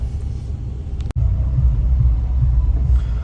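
A car drives and turns on a potholed road, heard from inside as a loud, continuous low rumble with one sharp jolt or knock partway through.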